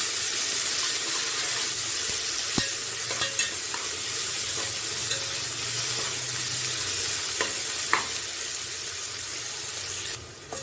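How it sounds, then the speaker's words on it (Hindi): Thinly sliced onions sizzle and fry in hot oil, a dense continuous crackle close to the ear, with occasional stirring scrapes and clicks and no voices. "फिर इसका तेल में फ्राई कर देंगे प्याज को।"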